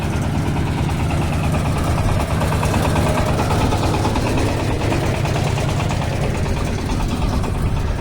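A tractor engine idles steadily close by, a loud, constant low rumble and vibration with no breaks and no talking.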